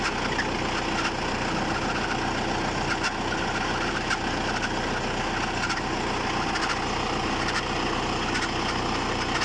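A steady mechanical engine-bay drone with a rough, uneven, sticking whir and faint intermittent clicks from a faulty car air-conditioning compressor running loudly and continuously nearby.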